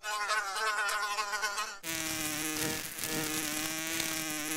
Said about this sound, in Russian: А, вот и муха!